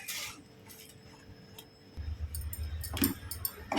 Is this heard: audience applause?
no